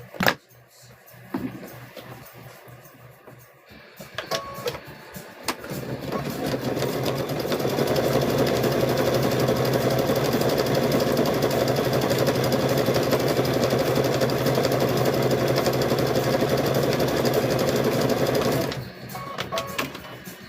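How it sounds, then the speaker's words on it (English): A sewing machine stitching around a rope wall hanging: a few handling clicks and knocks, then a steady, close mechanical whirring run of about thirteen seconds that winds down and stops near the end. "let me sew around that right there"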